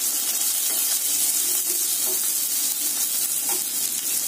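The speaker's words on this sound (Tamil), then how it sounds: "கடலைப்பருப்பு 4 போட்டு வதக்குங்க, வரமிளகாங்க, சீரகம் 2 போட்டு வணக்குங்க" Chana dal, dried red chilies and cumin sautéing with onions in hot oil for tomato kuzhambu, a steady close sizzle with a few soft stirring scrapes, no voices.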